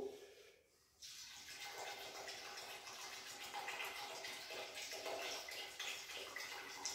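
Water pours steadily into the tank of a low-pressure paint station, a continuous close splashing rush that starts abruptly after a brief quiet moment and runs on without a break.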